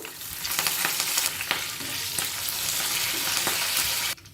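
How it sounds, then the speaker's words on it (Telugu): Cumin, dried and green chillies and curry leaves sizzle steadily in hot oil, with crackling pops and occasional stirring scrapes, close and even until the sound cuts off abruptly. "ఇప్పుడు ఈ పోపు అంతా వేగిపోయింది"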